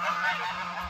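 Geese in a barnyard give a single nasal honk lasting about a second, fairly close.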